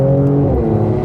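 Mercedes-AMG C43 engine humming steadily in manual mode, a close, constant drone with a slight rise in pitch over about a second.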